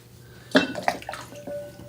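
A Nike Air Max sneaker dipped into water for cleaning, giving a few close splashing and sloshing sounds with light drips and small knocks over about a second.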